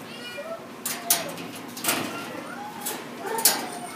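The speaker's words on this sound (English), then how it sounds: "Is it a baby kitten?" Kitten in a shelter kennel giving several faint, short meows, spaced apart over a few seconds, mixed with soft rattles and clunks of the kennel.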